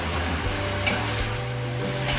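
Salted jambal fish and petai stir-fried in a pan, with a steady close sizzle and occasional scrapes and stirring clatter, alone with no talk.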